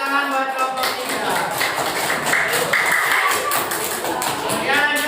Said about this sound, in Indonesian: Kasih tepuk tangan buat kelompok 3